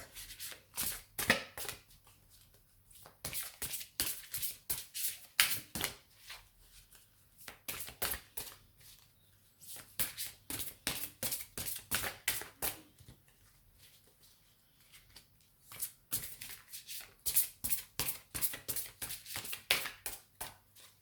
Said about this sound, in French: je mélange un coup et puis on va tirer une carte